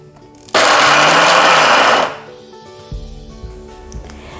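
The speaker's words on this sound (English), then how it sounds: "Just put your groundnut into your blender and add a little bit of water," A kitchen blender grinds groundnuts with a little water, roaring loudly for about a second and a half before winding down, followed by quieter clinks and handling noises.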